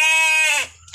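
A sheep gives one loud, close bleat in a sheep pen, a strained harmonic cry that breaks off after about half a second, leaving low rumbling pen noise behind.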